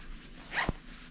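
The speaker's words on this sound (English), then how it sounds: "only pockets on the sides, and they are boat zip, like that." A single short zip on the side pocket of a Nike ACG Rope De Dope Ultra Rock jacket, one quick rasping pull close by against a quiet room.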